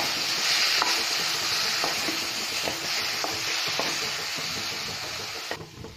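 Tomatoes are stirred into mint rice in a hot pan, with a steady close sizzle and hiss under repeated scraping strokes of a spoon against the pan.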